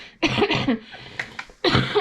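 Several loud, close coughs in quick succession from a woman with a cough, with a short pause between bursts and one more harsh cough near the end, heard alone without talk.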